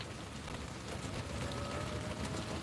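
Steady rain on a Thursday morning in Connecticut, a dense even hiss of drops on surfaces with no pauses and no voices.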